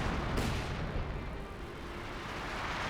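Light artillery barrage in Company of Heroes 2, shells landing in a dense, continuous rumble of blasts and crackling impacts, loud and sustained with no voices.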